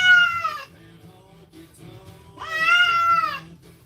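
A kitten gives two loud, drawn-out meows about two seconds apart, close to the microphone, with quiet pauses between them.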